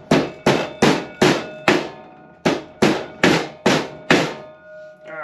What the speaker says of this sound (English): I'll just take the hammer and I'll just tap around it a little bit to get the bushing square